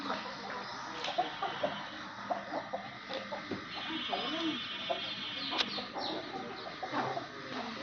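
Several cock chickens cluck and chatter in irregular bursts, with a higher birdlike call now and then, close by and fairly steady throughout.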